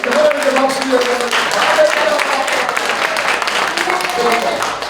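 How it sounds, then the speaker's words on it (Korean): An audience in a church conference hall bursts into sustained applause, a dense, even wash of clapping from many hands that carries on for several seconds while a voice is heard over it. "하나님께 박수 주세요."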